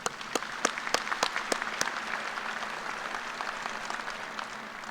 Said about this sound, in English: Please join me again in a round of applause for these individuals.